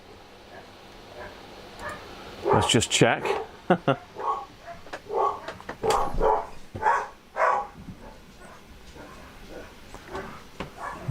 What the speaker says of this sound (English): Alright, a lot of barking going on there.